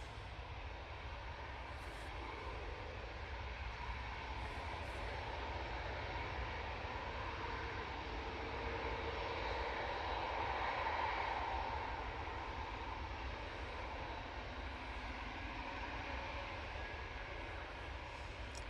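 Ryanair airliner rolling along the runway for takeoff at Manchester Airport, bound for Eindhoven: a sustained engine roar that swells gradually toward the middle and eases slightly, heard alone without talk.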